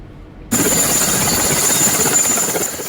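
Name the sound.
military helicopter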